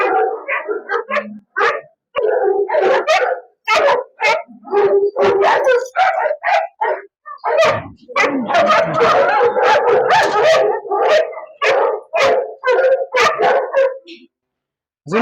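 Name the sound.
dog barking and howling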